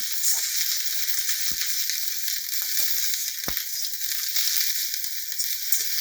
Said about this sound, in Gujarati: તો સરસ એવી આપણી બ્રોકોલી ફ્રાય થઈ ગઈ છે